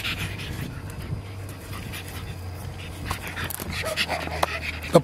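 A pug puppy pants close by in quick, rhythmic breaths, with faint background rustling and a few sharper noises toward the end.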